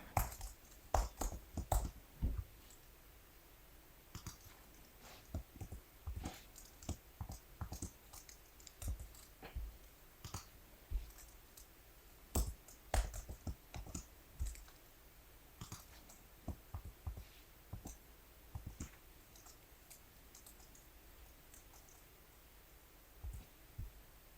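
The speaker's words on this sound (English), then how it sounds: "I'm going to type the formula without talking" Someone types a spreadsheet formula for data cleaning on a computer keyboard. Faint, close key clicks tap along unevenly for over twenty seconds in a quiet room, with no voices.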